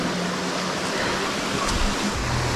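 Water from a small spring at an aid station on a volcanic 50K trail race rushes in a steady, loud, broadband wash with no pauses.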